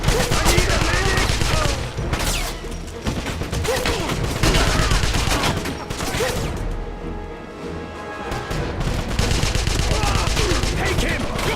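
Gunfire in a Wolfenstein war game, with dense rapid shots and crashing impacts layered over a loud battle din. Voices shout among the shots.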